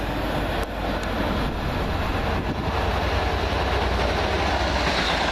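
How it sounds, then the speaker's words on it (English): A Class 56 locomotive, number 56-7306, hauls four coaches past at Cheddington station, its broad, steady rumble close and loud throughout with faint rail clatter and no talk. "Wait a minute, is that 56-7306 coming back?"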